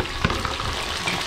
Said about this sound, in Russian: Сначала обжариваем лук.